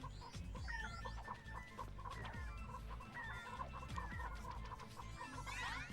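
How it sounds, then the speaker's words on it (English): Several chickens cluck and murmur nearby in a busy, overlapping chorus in the video game Ratchet & Clank, steady throughout with no talking. "Chickens!"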